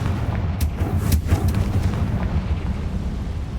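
A Confringo fire spell blasts in Hogwarts Legacy, a deep rumbling explosion with sharp crackling bursts near the start, then a sustained low roar fading through the rest.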